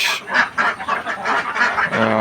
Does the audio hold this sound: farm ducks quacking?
yes